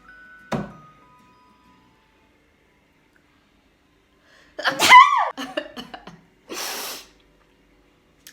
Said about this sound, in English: Oh my gosh, I need to sneeze.